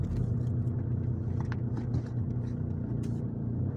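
A car driving through forest, its steady engine rumble loud and continuous, with faint knocks and rattles over the top as it moves along a rough track.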